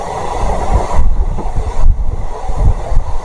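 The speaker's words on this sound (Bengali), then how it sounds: "Azimganj junction Krishnanagar city passenger এখন এই মুহূর্তে মুর্শিদাবাদ জংশন রেল স্টেশন ঢুকছে" Azimganj–Krishnanagar City passenger train rolling into Murshidabad Junction station near Kurmitala rail gate, a steady close rumble with clattering rhythm and wind buffeting, no voices.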